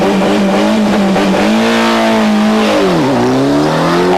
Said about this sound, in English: The first car off onto the tarmac roads would be the Escort Cosworth of François Delacour.